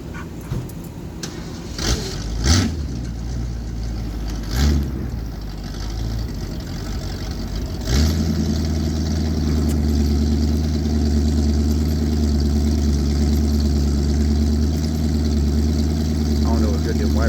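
Engine of an old car nicknamed the Green Machine, a low rumbling drone broken by a few knocks, then settling at about eight seconds into a steady, continuous running note while the car is driven.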